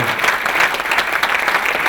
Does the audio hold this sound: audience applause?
yes